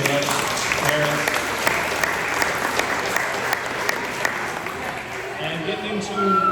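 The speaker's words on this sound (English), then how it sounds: "So big round of applause for you guys." Parents and guests at a boys soccer team gathering applaud steadily for the players, a dense even wash of clapping from start to finish with no voices.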